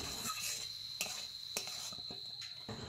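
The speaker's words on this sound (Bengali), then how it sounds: "এবার ভালো করে একটু মিশিয়ে নিচ্ছি।" A spoon stirs banana flower chop filling mixed with peanuts and coriander in a pan, giving a few sharp scraping clicks spaced about half a second apart over a steady high insect-like hum, fairly faint.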